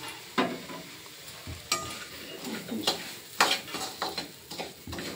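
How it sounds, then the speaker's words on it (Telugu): Wheat semolina (rava) roasting in a pan for rava kesari, stirred with repeated scraping strokes and a light dry sizzle, close and fairly loud with no speech. "ఇంకా ఈ రవ్వ ఉంది కదా, గోధుమ రవ్వ, దీంట్లోనే వేసి వేయించేసేయండి."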